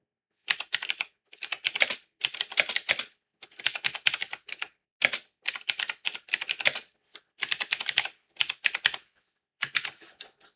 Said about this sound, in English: I'm gonna just type it out.